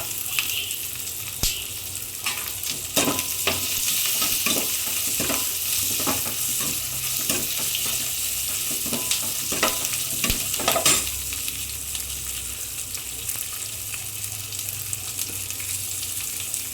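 Handful of garlic sizzling steadily in a pan of oil with small onions, a spoon scraping and stirring in scattered clicks, close and continuous throughout.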